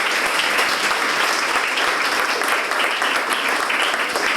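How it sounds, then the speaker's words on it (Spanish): Church congregation clapping loudly and continuously during a sermon, a thick, sustained wall of applause from many hands with no break. "Denle un fuerte aplauso a nuestro Señor"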